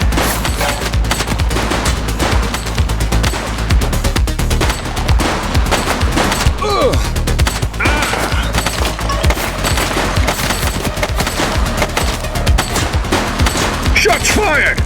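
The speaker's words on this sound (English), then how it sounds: "She's shooting!" Gunfire in the video game The Precinct plays as dense, rapid bursts of automatic shots and a crackling fusillade that stays loud and relentless, with the shooting rattling on continuously and voices heard in places.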